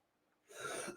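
A single short, breathy cough bursts out after half a second of near silence, close to the microphone.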